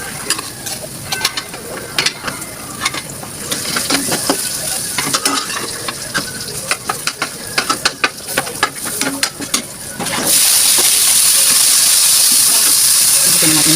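Garlic, tomato and onion sautéing in a pan for fish sarciado: close, busy scraping and clattering of stirring over frying for about ten seconds, then an even, louder sizzle running on alone.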